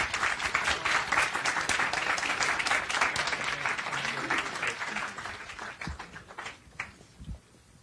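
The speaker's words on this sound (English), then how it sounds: "Can everybody give a round of applause to our panel up here?" A conference crowd applauds a panel steadily for several seconds, then the clapping thins out into a few scattered claps before fading.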